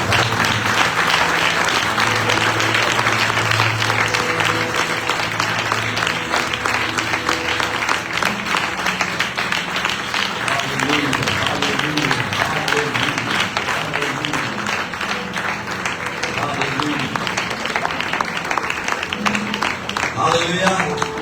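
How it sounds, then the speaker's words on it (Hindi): Loud, sustained applause from a church congregation, dense continuous clapping filling the room throughout, with a little voice faintly underneath. "यीशु के नाम में जोरदार तालियां बजाएं।"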